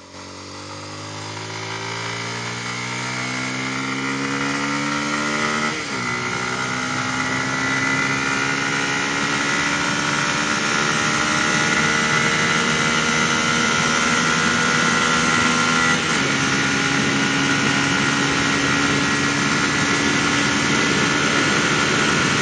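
A Pulsar F250 motorcycle's engine and exhaust drone loud and steady at speed, the tone climbing through the gears with two clear shift dips, a continuous close roar with wind noise and no talk.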